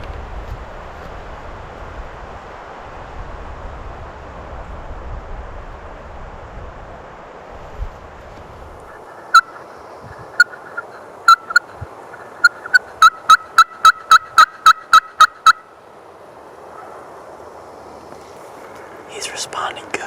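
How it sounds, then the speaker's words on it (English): Wild turkey gobbling from down a mountain ridge, faint and distant under steady wind noise, with a quick rapid burst of sharp clicks near the middle, and wind gusts throughout. "His gobble is definitely being drowned out by the wind"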